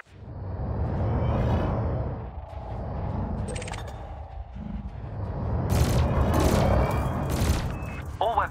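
Ship weapons fire repeatedly at floating cargo canisters during a combat evaluation in Elite Dangerous, with steady bursts of gunfire and whooshing impacts over a low engine rumble. The sound is loudest toward the end.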